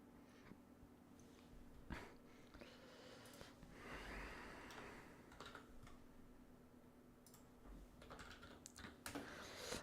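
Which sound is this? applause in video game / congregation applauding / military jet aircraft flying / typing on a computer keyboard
typing on a computer keyboard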